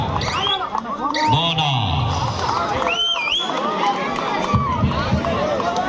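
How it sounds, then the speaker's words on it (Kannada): Kabaddi fans at a high-voltage match in Teradal, Aralimatti vs KSP Bengaluru, applauding and whistling: a dense, loud, continuous crowd roar with sharp whistles rising above it, under a commentator's excited voice. "ಅಭಿಮಾನಿಗಳಿಂದ ಚಪ್ಪಾಳೆ ಶೀಳೆ ಏಕಕಾಲದಲ್ಲಿ"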